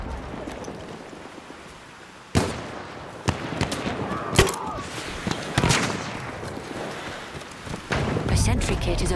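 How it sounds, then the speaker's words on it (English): Battlefield 1 combat audio carries scattered sharp gunshot cracks and heavier booming reports over a rumbling background, with a denser burst of fire near the end. "Machine gun right there!"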